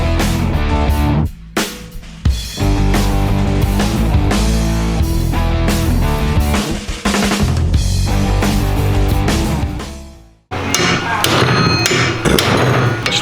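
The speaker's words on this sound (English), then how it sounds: "Whacking these to make sure I broke the welds on it." A Shovelhead Harley-Davidson hardtail frame being struck repeatedly with a hammer to break its welds, loud dense metallic blows in rapid succession, a brief pause near the end before the hammering resumes.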